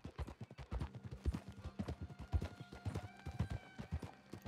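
Horse hooves clip-clop in the video game Red Dead Redemption 2 in a quick, steady rhythm of close, punchy thuds, with a faint tonal game sound entering partway and no talk.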